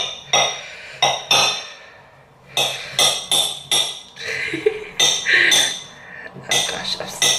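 A knife cuts a banana on a plate with loud, sharp clinks and scrapes of metal on crockery in irregular bursts, heard up close.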